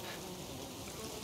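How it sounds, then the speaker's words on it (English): Honeybees buzzing around hives in Ghost of Tsushima on Iki Island, a steady, faint, continuous drone of many insects with no breaks. "Noble honeybees, he defends our hives and queens."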